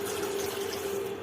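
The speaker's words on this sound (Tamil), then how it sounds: "போட்டு அது தண்ணி ஊற்றி ஊற வச்சுக்கலாம்." Water poured from a tap over a handful of tamarind to soak it, a steady close splashing stream with a faint tonal hum running underneath.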